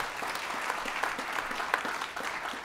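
An audience applauds the Peekskill City Singers at a state senator swearing-in ceremony, a continuous patter of many hands at moderate level, with a few sharper individual claps standing out.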